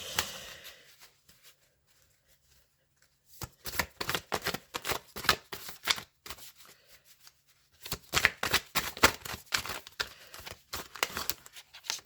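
Tarot cards being shuffled and cut, heard as two long runs of rapid, crisp riffling bursts, close and fairly loud, separated by a quiet pause, with no talking.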